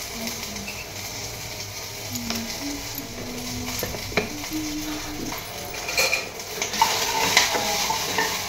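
Food roasting in a pan gives a soft continuous sizzle, with a spatula stirring and scraping and occasional clinks against the metal, close and moderately quiet.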